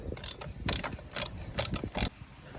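A ratchet loosens a bolt on the EGR of a Mitsubishi Montero 3.2, giving five quick, close, crisp clicking bursts in an even rhythm with no talk.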